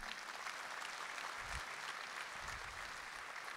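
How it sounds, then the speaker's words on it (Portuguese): Applause from a Catholic church congregation during a Mass homily, a soft, fairly distant wash of clapping that holds steady throughout without voices on top. "eu queria que mais uma vez você se aplaudisse"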